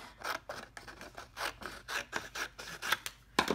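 Scissors snipping through paper for a floral craft project, a quick series of close, crisp cuts in an uneven rhythm, alone without talk.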